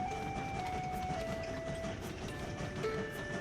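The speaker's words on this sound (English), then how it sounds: "Clicking on the train starts it in motion." A train set in motion in the video game Train Valley: a steady rolling rumble with faint clickety-clack and thin sustained tones, holding an even loudness throughout.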